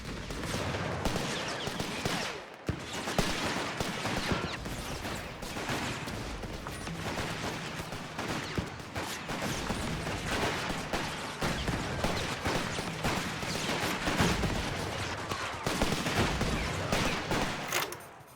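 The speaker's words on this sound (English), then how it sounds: "Our signals vehicles are under fire, but we can still make a difference." Battle gunfire in the World War II strategy game Company of Heroes 3, set in North Africa: dense, continuous rattling of rifles and machine guns with scattered heavier bursts and a brief lull early on, loud throughout.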